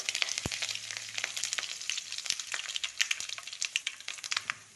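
Mustard seeds, dried red chillies and curry leaves crackle and pop in hot oil, sharp irregular bursts over a soft sizzle, close and fairly loud.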